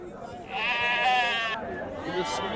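Several sheep bleat loudly and close by at a livestock market in Medak, overlapping wavering cries lasting a couple of seconds, with a second shorter bleat near the end.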